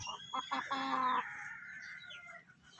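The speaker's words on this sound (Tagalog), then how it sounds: "yan yung Shamo Asil natin na hen." A large Shamo Asil hen clucks close by in a short run of quick, bright calls that trail off into quieter chatter.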